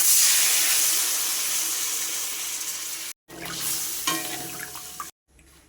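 Water hits a hot cooking pan in a home kitchen and bursts into a loud, hissing sizzle that slowly fades over a few seconds, followed after short cuts by quieter bubbling and light clinks.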